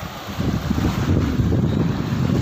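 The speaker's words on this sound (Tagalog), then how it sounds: "Kung naririnig yung ano, yung pagaspas ng hangin, ang lakas talaga." Strong wind roaring and buffeting the microphone on a beach at Half Moon Bay, Dhahran, Saudi Arabia, steady and loud throughout, with a faint wash of waves underneath.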